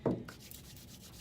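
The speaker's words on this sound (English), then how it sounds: "That's the noise of dry hands" Dry hands rubbed together once in a short, papery swish, close and fairly quiet, then faint room noise.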